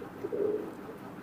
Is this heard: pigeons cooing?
yes